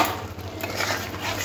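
A spoon scrapes and clinks against a pan as tomato paste is stirred into frying spices for a spicy katla fish curry, a steady close-up clatter of utensil on metal.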